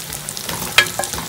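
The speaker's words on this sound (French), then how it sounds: "Là, je viens rajouter mes légumes. Aubergines, carottes, manioc et puis les choux." Aubergines, carrots, cassava and cabbage dropped into a frying pot for tchep, giving a steady close sizzle with a few soft stirring clatters and one brief louder splash.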